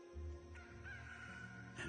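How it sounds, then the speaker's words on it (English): A rooster crows in a single drawn-out call over a steady background hum, moderately faint and with no talk. "Before the rooster crows, you will deny me 3 times."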